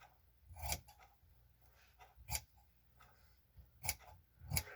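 Scissors snip through kilt cloth in four distinct crisp cuts spaced about a second apart, close and fairly quiet, with faint rustling of fabric between the cuts.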